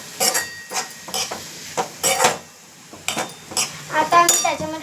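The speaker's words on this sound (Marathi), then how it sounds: "आता आम्ही त्याला घोटून घेणार." Repeated clinking and scraping of a spoon against a cooking pot as black pepper is stirred into a dish, irregular close taps in clusters with short pauses between them.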